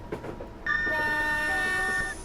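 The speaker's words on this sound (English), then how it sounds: "Oh, there's another train. We should horn." A loud, steady train horn in Train Simulator 2013 on the London to Brighton route sounds for about a second and a half after a brief bit of faint noise, then cuts off.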